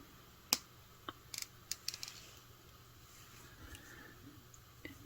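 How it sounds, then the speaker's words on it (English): Wire cutters snip beading wire during necklace making, a few sharp, quiet clicks and snaps spread over a few seconds against a low background hum, with no talking. "I'm going to take my cutters and cut off my extra wire."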